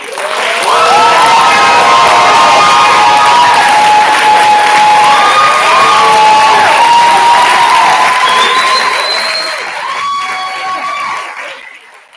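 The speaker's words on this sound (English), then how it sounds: "I would like to give everyone a round of applause" Loud cheering and applause from an audience at a spring dance showcase and end-of-season awards, clapping mixed with high excited shouts and whoops, sustained throughout before fading at the end.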